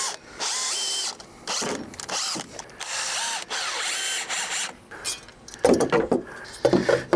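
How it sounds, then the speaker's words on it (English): A power drill drives screws into bench brackets in several long whirring bursts with short pauses between, followed by a few shorter, choppier runs, all close up and loud. "All right, I'm gonna just drive a few more screws."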